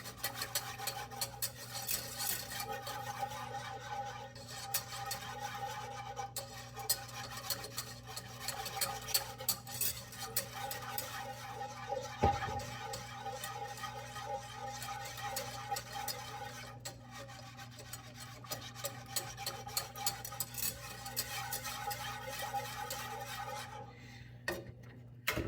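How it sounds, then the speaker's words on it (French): Peach Teisseire gelatin candy mixture being stirred in a pot, a steady low scraping and rubbing that runs continuously over a constant background hum, with no voices. "On mélange bien."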